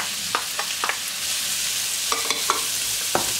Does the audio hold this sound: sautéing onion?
yes